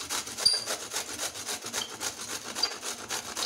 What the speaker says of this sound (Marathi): अशी आपण सगळी कारली किसून घ्यायची आहेत